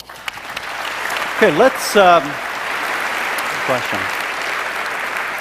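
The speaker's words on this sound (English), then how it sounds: "We like the applauding, so please continue that throughout the debate." An audience applauds steadily at a debate between Christopher Hitchens and Tony Blair on religion, a loud, continuous clapping wash while a voice speaks over it.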